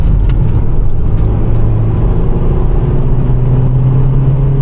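A 1.8-litre Honda Civic, recently recovered after being stolen, pulls away under acceleration, a loud, close engine drone with a low rumble running continuously from inside the car.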